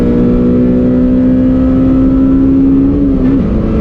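The engine of a Honda Integra Type R revs hard above 5000 rpm, a loud, close, sustained high-pitched engine note holding steady before a brief dip and rise near the end.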